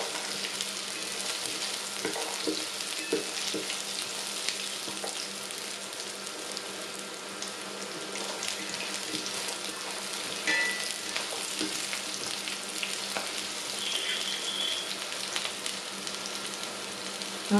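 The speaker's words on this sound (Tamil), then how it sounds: "வெங்காயம் இப்போ வதங்கி வந்துட்டு இதுக்குள்ள நாங்கள் முந்திரியை போடுவோம்." Cashews and onions fry in a pan for vegetable pulao, giving a steady, even sizzle with occasional soft stirring clinks and no voices.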